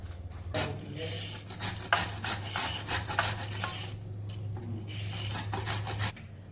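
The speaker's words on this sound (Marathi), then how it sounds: "आता आपण हे किसून घेणार आहे सगळे गाजर आता मी किसून घेते" Carrots are grated by hand for carrot halwa, a close, rhythmic rasping of repeated strokes over a low steady hum. No one speaks.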